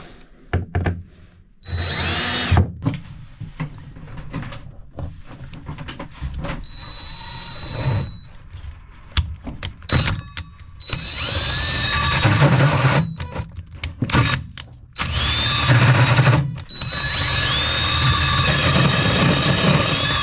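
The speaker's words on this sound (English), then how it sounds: "and then drill through, hopefully." Power drill boring through a board while fitting new batteries aboard a Bayfield 32c sailboat, heard in several loud bursts with pauses, mixed with knocks and handling of wood and tools.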